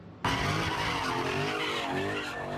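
Cars doing burnouts and spinning at a nighttime street takeover in South Los Angeles: loud, sustained tire squeal and skidding with engine roar, starting abruptly and continuing without pause.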